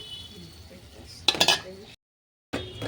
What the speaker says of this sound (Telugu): కొద్దిగా సాల్ట్ వేసేసుకొని ఒకసారి బాగా మిక్స్ చేద్దామండి